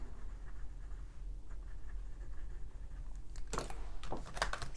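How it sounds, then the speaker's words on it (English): Pen scratching on paper in a few short, close strokes toward the end, over a steady low background hum. "Just writing something."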